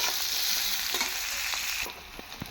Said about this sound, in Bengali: আর পেঁয়াজটা দিয়ে ভালোভাবে নাড়াচাড়া করবো।